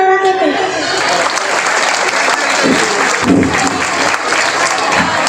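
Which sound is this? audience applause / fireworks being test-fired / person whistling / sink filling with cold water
audience applause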